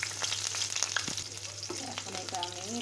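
Chopped onion and garlic sizzle in a pan of oil with cinnamon, cardamom, cloves and nuts, a steady close crackling fry with occasional stirring scrapes and no talking.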